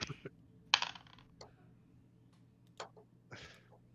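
A pink die shaken and rattled, giving a few sharp, brief clicks and clatters spaced out over quiet, close and fairly faint.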